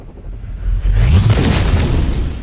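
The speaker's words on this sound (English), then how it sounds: "so the attackers throw a hand grenade." A hand grenade explodes near an armored limousine with a loud, close boom and a broad burst of noise. It rolls on into a rumbling, hissing tail.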